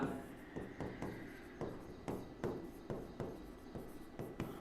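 Marker or chalk writing on a board during a nuclear physics lecture, a steady run of quick scratchy strokes and taps, close and fairly quiet, with no talking over it.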